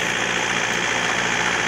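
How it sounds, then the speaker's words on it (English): A tractor engine runs with a steady, loud, close rumble that holds an even level throughout, with no voices. "Here comes my tractor."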